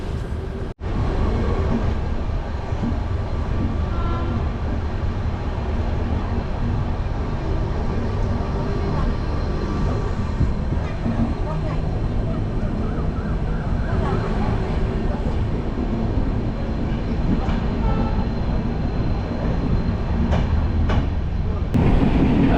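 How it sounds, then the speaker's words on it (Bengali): The Kanchan Kanya Express rumbles steadily along the rails, a continuous loud roar with faint rhythmic clatter throughout, heard from inside a carriage. "একদম নির্ধারিত ঠিক সময় ট্রেনটা ছেড়েছে"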